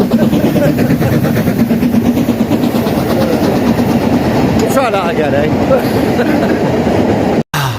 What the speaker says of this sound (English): Blimey, the good old steam train. You can't beat it, can you?